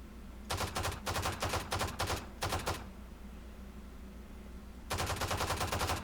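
Sidearm pistol fire in a video game comes as rapid bursts of sharp shots in two clusters, a brief pause, then a final burst, loud and close with no talking.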